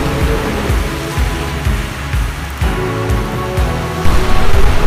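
Heavy rain with strong wind during extreme weather in Padang, a dense steady roar of downpour with gusty surges, loud and continuous throughout with no speech.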